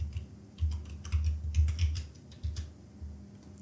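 Someone typing a search on a computer keyboard, quick irregular clicks and taps in bursts over a low steady hum, close and moderately quiet with no talking.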